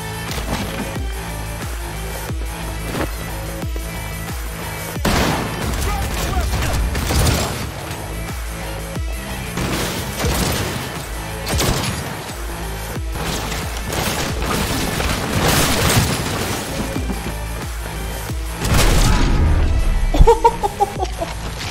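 Weapon fire in Cyberpunk 2077, loud bursts of shots and booming impacts scattered across the clip amid mechanical game sounds, with a denser volley near the end.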